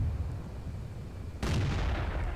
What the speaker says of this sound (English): And Danian goes for a shot before he's been fully aimed and before the object can get into cover